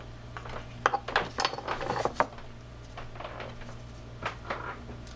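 Small metal gear being turned into position inside a Mitchell 302 fishing reel's side casing during repair, giving a few light clicking, scraping ticks in a short cluster followed by scattered fainter clicks, close up with a faint steady hum underneath.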